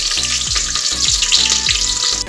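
One large chopped onion frying in oil with whole spices makes a loud, continuous crackling sizzle up close, with rhythmic low scraping of stirring throughout and no talk.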